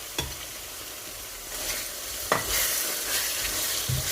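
Sliced tomatoes drop into a pan of stuffed karela masala and fry with a steady soft sizzle, broken by a few sharp stirring clacks near the start, middle and end; close and moderately quiet, no talking.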